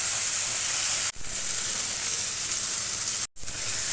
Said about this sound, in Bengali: মশলার সাথে চিংড়ি মাছটা ভাজা ভাজা করে নেব।